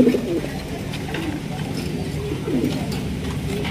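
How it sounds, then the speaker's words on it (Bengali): A big black Lahori pigeon cooing close by in low, throaty repeated coos, with one burst near the start and another near the end over a steady background rumble. "এখানে রয়েছে একটা শোকিং কবুতর"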